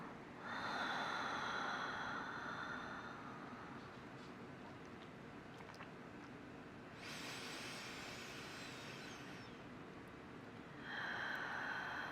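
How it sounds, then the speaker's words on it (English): Slow, deep meditative breathing up close: a long airy inhale, a quieter stretch of breath, another drawn-out breath, then a fresh inhale at the end, with no talking. "Deep inhale, deep exhale."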